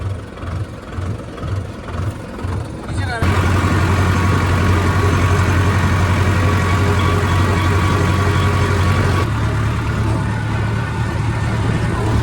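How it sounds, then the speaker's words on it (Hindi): A tractor engine runs steadily on a farm, a low rhythmic chug that builds to a louder, continuous roar with strong low-end throb as the tractor speeds up, hauling a trolley out toward the field. "अपन जल्दी ट्रैक्टर को थोड़ा तेज चलाएंगे"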